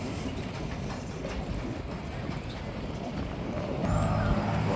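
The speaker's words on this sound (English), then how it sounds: "Show the different angles of how the train's rolling." A freight train rolls past close by during switching work, a steady rumble with rattling wheel noise that swells louder toward the end, alone without talk.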